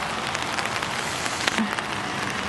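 Steady rain patters on trees where a flock of wild parrots sits in Pasadena, a close, even wash of drops with a few louder taps; no bird calls stand out.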